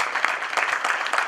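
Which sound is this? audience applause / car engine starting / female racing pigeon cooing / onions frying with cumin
audience applause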